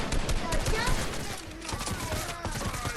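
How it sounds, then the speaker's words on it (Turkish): Rapid gunfire from a Fortnite match, dense bursts of shots crackling steadily throughout with game noise layered in, loud and close. "Her yerden sıkıyorlar."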